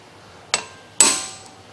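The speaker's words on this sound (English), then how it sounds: "like an impact, like an air tool or an electric impact tool. This is a manual one." A manual impact driver is struck twice to loosen brake screws on a Mazda6: two sharp, close metallic hits about half a second apart, each ringing briefly, the second louder with a longer decay, with no voices.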